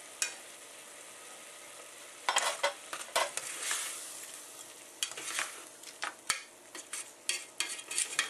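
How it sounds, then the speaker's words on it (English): Spices stirred into simmering recao and beef for rice with beef: a soft steady sizzle under close, irregular stirring strokes and scrapes that grow busier partway through, with a few light clinks of a utensil against the pot. "When the recao and the beef start to come to a boil again, stir in all your spices"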